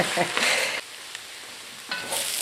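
Onions browning in a pan for French onion soup, a close steady sizzle broken by a few bursts of stirring and scraping as the onions are moved around, with no talking.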